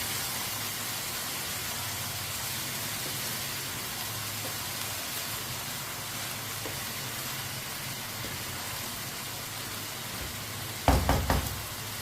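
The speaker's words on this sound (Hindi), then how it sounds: "चावलों को अच्छी तरह मिक्स कर लेना।" Rice being stirred in a pot while cooking mutanjan sweet rice, with a steady, even sizzling hiss throughout and a few sharp knocks of the utensil against the pot near the end.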